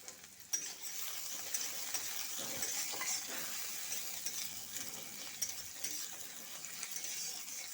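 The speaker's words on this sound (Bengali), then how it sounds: "দিয়ে দিচ্ছি তেলও প্রথমে গোটা গরম মশলা।" Whole garam masala spices dropped into hot oil in a heated kadai for a chicken curry give a loud, continuous crackling sizzle, with metallic scraping and clinks of a stirring utensil throughout.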